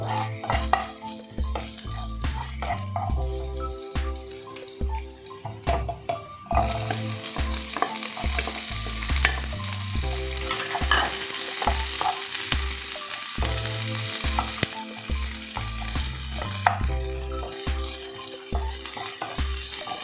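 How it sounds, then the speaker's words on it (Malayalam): Chopped onions fry with ginger and garlic for a potato capsicum masala, giving a continuous close sizzle that grows stronger midway, heard under prominent rhythmic background music. "ഇഞ്ചിയും വെളുത്തുള്ളിയും ഒന്ന് മൂക്കുന്ന സമയത്ത് നമുക്കിതിലേക്ക് അരിഞ്ഞു വെച്ചിരിക്കുന്ന ഉള്ളിയും കൂടി ചേർത്ത് കൊടുക്കാം"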